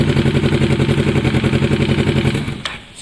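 A Kawasaki ER6n streetfighter's exhaust idles with a steady, pulsing throb up close, then cuts off abruptly just before the end, leaving a brief clatter.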